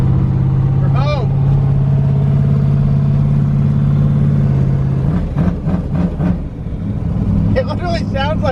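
An LS-swapped twin-turbo Fox Body Mustang with a vacuum leak idles around 1,500 RPM in a steady, loud, truck-like drone, with people talking over it partway through.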